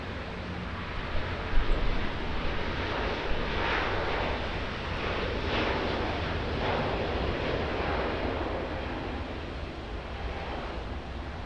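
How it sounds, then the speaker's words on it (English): Two Airbus A350-1000 airliners, one Qatar Airways and one Cathay Pacific, pass at Auckland Airport, giving a broad, steady jet roar that swells and fades in gentle waves, with some wind on the microphone. "There goes our two Airbus A350-1000s of Qatar Airways and Cathay Pacific."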